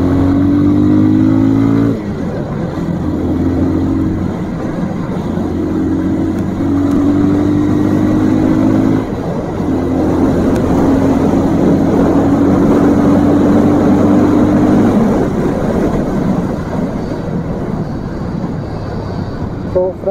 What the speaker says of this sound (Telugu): ముందైతే ఇంజన్ చెక్ చేస్తున్నాను